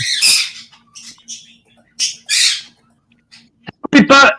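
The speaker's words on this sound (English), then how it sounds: "how many birds have you got there?" Loud, harsh bird squawks burst out in several calls, with shrill screeches near the end, close by and separated by brief quiet gaps.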